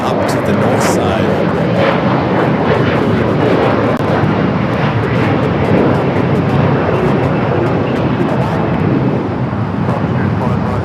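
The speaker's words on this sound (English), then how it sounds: "We do have Eva going to be taking off next here on the south side on 25 right." An EVA Air Boeing 777-300ER takes off from runway 25 right at LAX, its jet engines a loud, steady broadband roar that holds level throughout.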